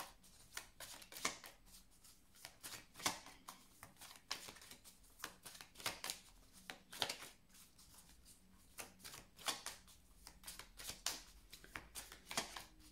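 Tarot cards being shuffled by hand, a quiet close run of riffling and flicking bursts repeating unevenly throughout, with no talk.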